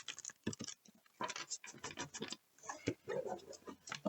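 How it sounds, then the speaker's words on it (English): Tarot cards shuffled by hand in a quiet room, giving bursts of soft papery riffling and slapping patter with brief pauses between rounds. "I feel like I need to give these a good shuffle."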